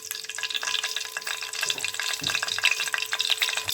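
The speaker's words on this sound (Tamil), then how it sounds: "இப்போ எண்ணெய் காஞ்சதுக்கப்புறம் கொஞ்சமாக சோம்பு ரொம்ப போட்டுறாதீங்க ஃப்ளேவருக்காக சும்மா கொஞ்சமாக பட் சோம்பு நெக்ஸ்ட்டு பட்டை அப்புறம் ஒரே ஒரு லவங்கம்" Fennel seeds, cinnamon and a clove sizzling in hot oil in a pan, a steady bright crackling fry with small pops, close and continuous, no talking.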